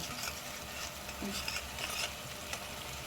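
Cashews and soaked chickpeas frying in a pan while being stirred, heard as a faint, soft sizzle with light scraping strokes of the spoon, steady and close, with no talking.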